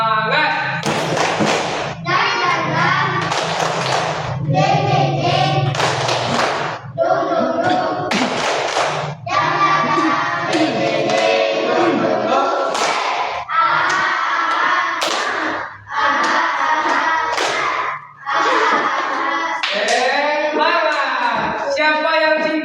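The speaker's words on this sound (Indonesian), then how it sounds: "marilah kita tepuk semangat terlebih dahulu" A fourth-grade class performs a rhythmic spirit clap, loud chanted group voices alternating with sharp clap patterns and short pauses between phrases, close and energetic throughout.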